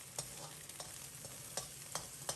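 A spoon breaks set scrambled egg into large chunks in a hot, well-oiled wok, giving about six sharp, evenly spaced knocks and scrapes over a low, steady sizzle.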